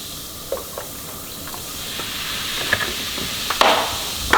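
A boiling pot of water with baking soda and white vinegar added is given a brief stir, producing a soft hiss and fizz with a few light scraping clinks near the end, close and fairly quiet.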